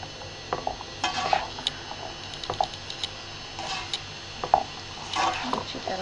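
Vegetables for a roti roll stirred in a pan, heard as scattered clinks and light scrapes of a utensil against the cookware, coming in irregular bursts with pauses, close by and fairly quiet.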